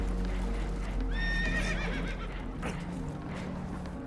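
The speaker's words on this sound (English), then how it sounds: "Horses are spooked" In the Red Dead Redemption 2 video game, a spooked horse lets out one clear rising-and-falling whinny over a steady low rumble of water and movement on a boat, with other horse noises nearby.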